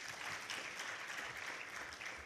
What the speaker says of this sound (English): I want to hear a very huge round of applause.